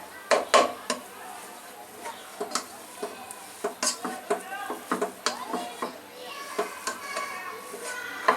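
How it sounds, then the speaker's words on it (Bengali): A metal spoon mashes fresh chhana at a sweet shop, making a steady run of light clinks and scrapes against the bowl. Faint background voices sit behind the clatter. "ও কিন্তু চামচ দিয়ে একদম মথে নিচ্ছে এখানেই।"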